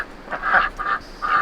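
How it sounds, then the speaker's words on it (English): Several nasal duck quacks in quick succession, fairly close and loud, with no talking. "Chickens and ducks."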